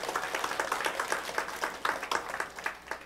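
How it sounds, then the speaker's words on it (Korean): Applause from a church congregation during a worship service, a steady patter of many hands clapping at moderate distance, fairly even in loudness for a few seconds with no voices over it. "우리 하나님께 영광의 박수 올려드리겠습니다."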